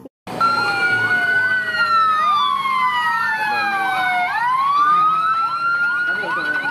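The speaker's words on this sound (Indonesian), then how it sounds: "Ini ambulan." A toy ambulance, mud-covered and shown among other toy vehicles, sounds its siren close by: a loud electronic wail sweeping up and down, with layered warbling tones that run continuously after a brief start.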